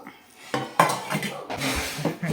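Dishes and cutlery clatter in quick, uneven knocks and scrapes while a mother serves a home meal of chitranna, kesaribath, sambar and rice to relatives at a birthday gathering, close and fairly loud.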